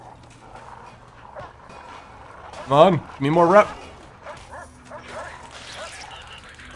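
A dog in the Prison Architect video game lets out two sharp, high barks in quick succession, with someone talking quietly around them over soft game background sound.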